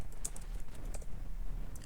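Quick, light clicks of typing on a computer keyboard, a soft irregular patter of keystrokes close by with no talking.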